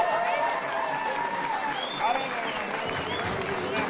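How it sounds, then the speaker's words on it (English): Sustained applause and cheering fill a New Jersey election-night campaign headquarters, loud and continuous throughout with crowd voices mixed into the clapping. "Let's give a big round of applause."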